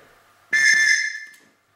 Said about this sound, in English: Almost sounds like a train whistle.